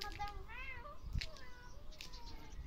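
Several short, plaintive meows from a cat in a front yard, clear and fairly close, mixed with soft background chatter.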